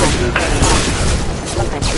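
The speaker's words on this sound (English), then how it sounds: "Firing a high-impact shot!" Heavy gunfire and booming weapon blasts from combat in Mass Effect Legendary Edition 2, dense loud bursts with a spoken voice over them.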